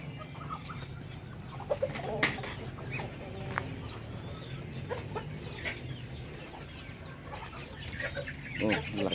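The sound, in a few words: chicks and chickens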